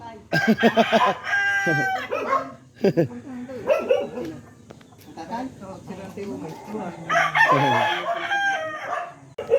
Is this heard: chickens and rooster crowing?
yes